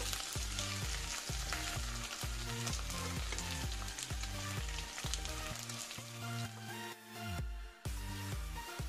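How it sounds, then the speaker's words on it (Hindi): Potatoes frying in oil give a steady, hissing sizzle that runs through the whole stretch, partly masked by louder rhythmic background music with a short dip near the end. "2 से 3 मिनट इसी तरह फ्राई करेंगे"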